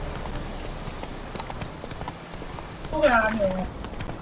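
Hooves of the horse Roach clop along steadily in a video game, a rhythmic trotting beat under a brief spoken exclamation, followed by a short whinny toward the end.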